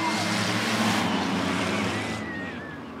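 Race cars at Rockford Speedway during an Original Sixers heat on Night of Thrills roar steadily as a pack, a dense, sustained engine drone that fades slightly toward the end with a faint announcer voice beneath.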